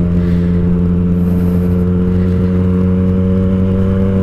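Yamaha FZ09/MT09 motorcycle engine running close and loud, a steady deep humming drone with strong even harmonics and a faint whir on top, no voices.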